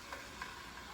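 A faint, steady sizzle of chicken frying in hot oil, with a few soft ticks and pops rising above the hiss.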